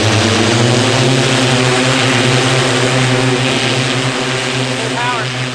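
Motors of a manned personal drone running at full power, a loud steady whining drone with strong tonal hum, continuous and close throughout, with a voice faintly underneath.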